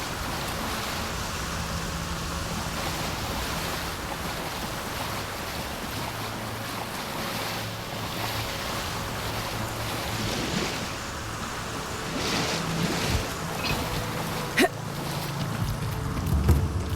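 Waterfall in the video game Avowed, a broad continuous rushing roar of falling water, steady and fairly loud throughout with a faint low hum beneath.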